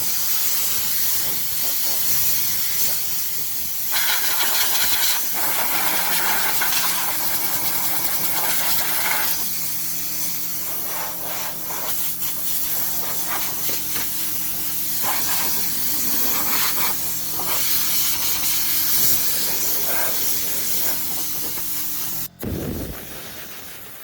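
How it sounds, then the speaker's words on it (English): An air compressor blower blasts dust off a Woodmizer sawmill in a barn: a loud, steady hissing rush of air lasting over twenty seconds, with a faint mechanical hum underneath and no talk. "we're going to go ahead and blow everything off of the sawmill"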